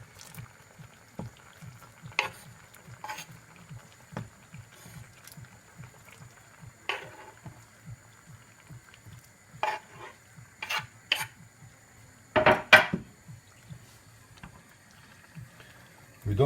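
Fresh haddock soup with chilies being stirred in a pot: a low steady simmer runs throughout, broken by scattered scraping clinks of a utensil against the pot that bunch together into a brief louder clatter near the end.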